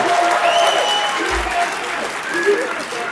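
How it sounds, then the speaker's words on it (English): Audience at a conference on its feet, clapping steadily and cheering, a broad continuous wash of applause with scattered whoops and voices rising through it. "They're standing up, they're cheering, USA."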